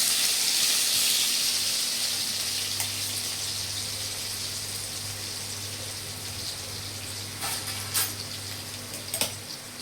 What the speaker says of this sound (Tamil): கடுகு பொரிஞ்சிச்சு, பூண்டு போட்டுக்கலாம்.